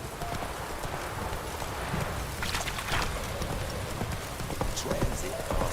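Roach, the horse in The Witcher 3 video game, gallops with steady hoof clip-clops at mid distance, mixed with ambient game sounds and other noise throughout.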